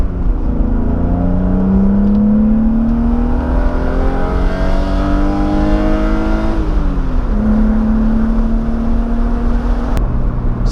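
A BMW M3 driven hard on a winding mountain road, its engine droning loud and steady with long rising revs, a brief drop near the middle as the gears change, then pulling strongly again.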